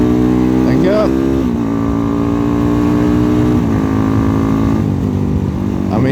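A Megelli 250R motorcycle accelerates to overtake, its engine droning loud and steady with pitch rising through the gears under heavy wind rush, and a rider's voice faintly mixed in.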